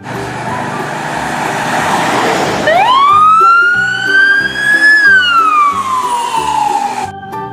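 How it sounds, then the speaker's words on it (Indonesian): A toy ambulance's siren winds up sharply, holds a rising wail, then slowly slides downward, loud and close over a rhythmic electronic toy tune. "Ini mobil ambulan teman."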